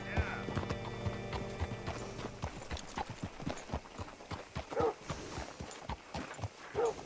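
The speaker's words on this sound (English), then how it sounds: "Hitch your horse up here." Horse hooves in the Red Dead Redemption 2 western video game: steady rhythmic clip-clopping close by, with a voice and ambient game sounds around it.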